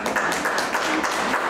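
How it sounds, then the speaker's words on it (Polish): Brief applause for the women at a palace spa event for Women's Day in Radzyń Podlaski, a short burst of clapping from a small group in a room. "brawa dla dziewczyn"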